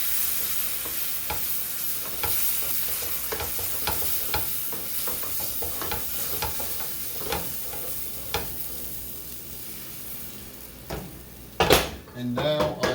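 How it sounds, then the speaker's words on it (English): Cold milk being stirred into a lasagna sauce in a pan, a rapid run of scraping and clicking spoon strokes over a soft sizzle, close up, ending with louder knocks of utensils on the pan. "I'm just going to keep stirring this until it becomes smooth"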